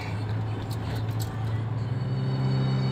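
A Toyota Innova engine after a chemical overhaul drones steadily in second gear on a test drive, its low cabin hum rising slightly as the revs build.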